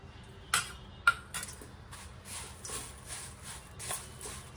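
A spoon clinks and scrapes against a bowl while chopped ingredients with coriander are stirred together, a few sharp knocks followed by softer rhythmic scraping strokes, close and fairly quiet.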